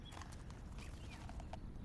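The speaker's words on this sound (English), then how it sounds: "Oh, don't mind the horses." Horses of an elven caravan walking at a steady pace, hooves clip-clopping in a dense run of soft knocks over a constant low rumble of travel ambience, with no talk.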